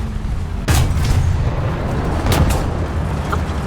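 A loud armour-piercing discarding-sabot shell strikes and punches through the player's tank in War Thunder, a sharp boom at onset over steady rumbling engine noise, followed by a second crack moments later.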